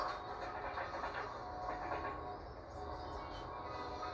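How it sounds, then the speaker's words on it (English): A train passes at a distance through a residential neighbourhood, a fairly quiet, continuous rumble with a soft rolling clatter that swells and fades slightly over a few seconds. "There goes the train."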